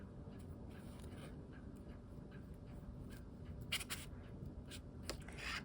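A glue stick is rubbed over a cardstock tag in quiet, soft scraping strokes, with a few brief sharper scuffs.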